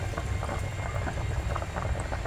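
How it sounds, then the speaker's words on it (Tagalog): A steady bubbling and hissing of a pot of water at a rolling boil, continuous and close, with no voices. "Ayan, kumukulo na."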